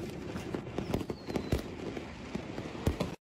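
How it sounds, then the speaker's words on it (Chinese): Firecrackers pop sporadically in the distance during New Year festivities, a scatter of faint sharp cracks over a low background hiss. "远处已经零星响起了鞭炮声"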